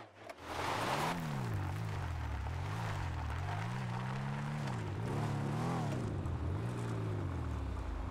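Muscle car engine in a video game revving continuously, its pitch rising and falling in repeated surges as the car accelerates and shifts, loud and steady throughout with no talk.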